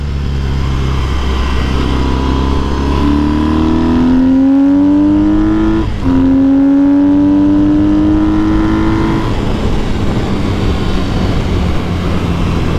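A 2010 Triumph Bonneville SE motorcycle engine and exhaust accelerating through the gears, loud and close, with rising revs, a brief shift break midway, then climbing again before settling.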